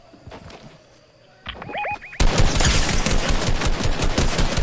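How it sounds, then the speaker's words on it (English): Gunfire in the Fortnite video game: a few faint shots first, then dense rapid automatic bursts that grow loud and continuous over the last half. "Where are you getting shot from?"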